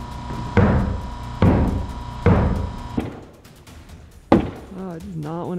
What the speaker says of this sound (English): I'm knocking dust loose from all different types of places.